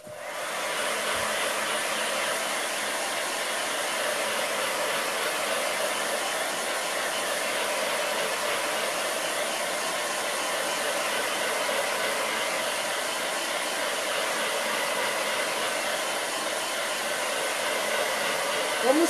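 A hair dryer blows on freshly sprayed paint, giving a steady, loud whooshing roar close by that holds unbroken for about nineteen seconds.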